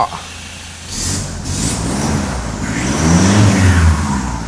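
A Toyota Hilux Revo 2.8 pickup truck engine revs and builds in pitch, a steady motor drone rising toward a louder, deeper roar, close by with no talking.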